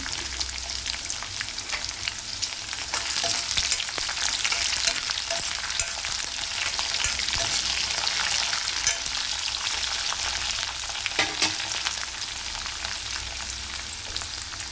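Upma ingredients with cashews frying in a pan, a loud continuous sizzle and crackle close by, with intermittent stirring scrapes and no talking.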